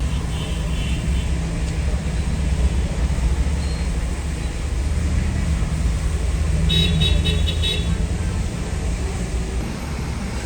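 Heavy, congested road traffic on the way to the airport during Ramadan keeps up a steady, close rumble, and a few short car horn toots rise above it near the middle.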